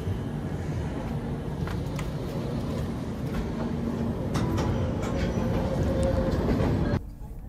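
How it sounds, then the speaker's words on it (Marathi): Mandovi Express rolling along the Konkan Railway between Mumbai and Goa, heard from inside the coach: a loud continuous rumble with faint rhythmic clatter that swells slightly, then drops off suddenly near the end. "मांडवी एक्सप्रेसने प्रवास होतोय"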